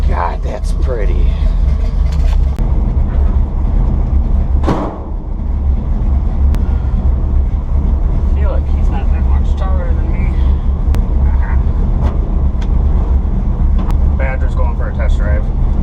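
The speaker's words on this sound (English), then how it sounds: "Test drive." A 1968 Ford F100 pickup truck rumbles along on a test drive, its loud engine and road noise a constant close drone, with people talking over it throughout.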